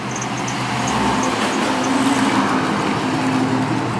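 A truck engine fitted with newly installed Carven mufflers rumbles in a steady, deep, loud idle, holding a constant throaty drone without revving.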